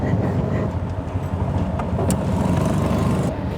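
Steady low engine drone and rushing wind while riding in a tuk-tuk through Phnom Penh, close and continuous, with faint road noise and no clear talk.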